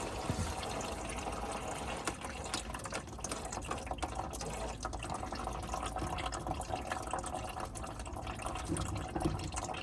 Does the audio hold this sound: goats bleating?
no